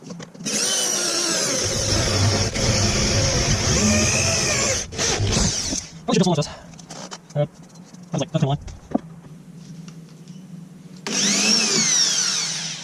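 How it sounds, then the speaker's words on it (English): A power drill bores a ring of holes through metal to make a fuel sender mount on an LS1-swapped Patrol, giving long loud whining runs that break into short bursts and stops, with gaps between. "So now we're gonna drill around and then cut between all the drill holes"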